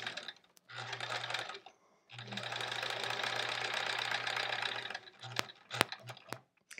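A home sewing machine stitches fabric while a felt quilt block is pieced, running in two long mechanical bursts with a rapid, even hum, followed by a few sharp clicks and taps.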